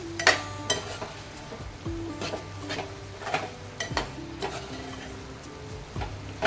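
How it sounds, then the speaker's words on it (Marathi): Kantola (spiny gourd) with a little jaggery and coriander is stirred in a pan. A spoon gives intermittent scrapes and clinks over a faint sizzle, close up and with no talk. "आणि अगदी थोडंसं गूळ चवीसाठी, थोडीशी कोथिंबीर. आणि आता मिक्स करून घेऊया."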